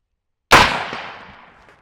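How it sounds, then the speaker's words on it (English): A Winchester Model 94 lever-action rifle fires a single sharp, loud shot outdoors, its report ringing and decaying over about a second. "Okay, 3 shots."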